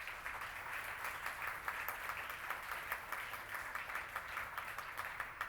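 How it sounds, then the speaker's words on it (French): Audience applause at a French-language public presentation, a steady wash of many hands clapping from a distance, fairly faint and even throughout. "Vous pouvez l'applaudir."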